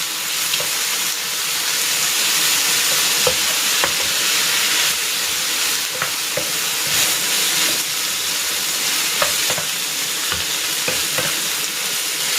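Pork sautéing with shrimp paste (bagoong alamang) in a pan for Bicol-style pork binagoongan, a loud steady sizzle and hiss with occasional sharp clicks of stirring, no one talking.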